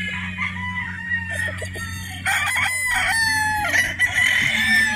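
Boston Roundhead broodstag rooster crowing close by, with a drawn-out call and a second crow a couple of seconds later over other birds clucking in the background.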